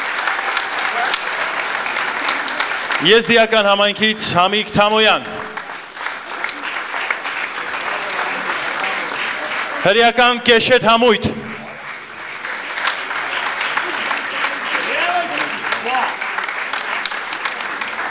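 Festival audience applauding at a national minorities folk festival, sustained clapping running under a presenter who announces performers over it, with brief gaps in the talk where the crowd's applause carries on alone.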